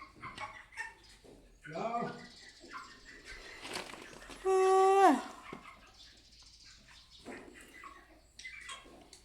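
Chickens being fed longan make short clucks and scratchy bursts, with one loud, drawn-out squawk near the middle, among scattered movement noises and intermittent human talk.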